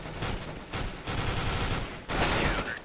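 Rapid bursts of submachine gun fire in a Counter-Strike match, dense overlapping shots in close succession with a brief gap before a final sharp burst.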